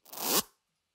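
A single short, bright swoosh of noise ramps up and cuts off abruptly with a downward pitch drop, a glitch effect in an electronic dance music drop.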